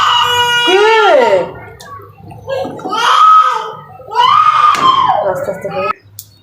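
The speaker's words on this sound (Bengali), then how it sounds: "কি হয়েছে মা, কান্না করো কেন?" A child cries loudly near a home kitchen where beef tripe is being cooked, with three long rising and falling wails separated by brief breaths.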